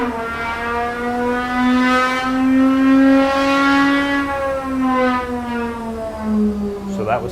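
A Gordon Murray T.50 engine on a dyno revs up to 5,500 RPM and back down, its loud, tonal, siren-like howl rising and falling smoothly over several seconds.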